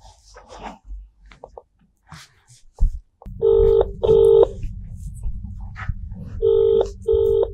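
A mobile phone on speaker places a call: brief voices and handling noise first, then repeated ringback tones in short paired bursts over a low hum, fairly loud and near.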